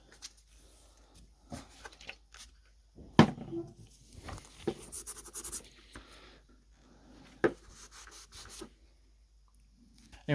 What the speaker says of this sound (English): Kind of wet sand that off of there.